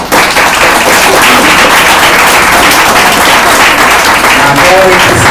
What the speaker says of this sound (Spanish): Dale palmas a Él.